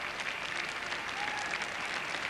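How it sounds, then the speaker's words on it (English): Crowds waiting outside a royal wedding applaud steadily, a dense, even patter of clapping from many hands that holds throughout and sounds somewhat distant. "emerged in the bright late afternoon light and to the applause of the waiting"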